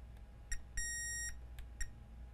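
A multimeter gives a steady continuity beep of about half a second as a probe touches a grounded pad on an iPad Pro 10.5 board, amid light clicks of probe contact in a quiet room.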